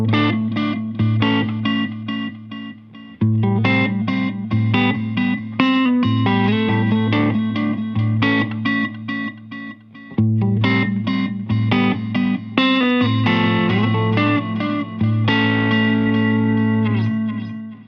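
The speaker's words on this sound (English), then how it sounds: "a flanging delay" Electric guitar played through a Wampler Metaverse delay pedal on a flanging delay setting: rhythmic chords and picked notes with swirling, sweeping repeats and trailing echoes, loud and close, alone with no talk.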